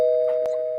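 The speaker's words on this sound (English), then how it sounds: "So I can play a doorbell sound." A doorbell sound effect rings as a single clear, sustained electronic chime tone lasting under a second, with a couple of faint clicks over it.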